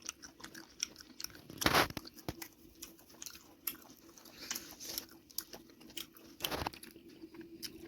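Someone chews a piece of spiced meat curry at a village evening feast, with a few loud crunchy bites and softer wet chewing between them, close up and with no talk.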